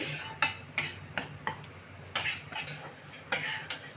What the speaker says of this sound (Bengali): আটাটা ব্রাউন কালার আসছে ততক্ষণ পর্যন্ত ভাজতে থাকবো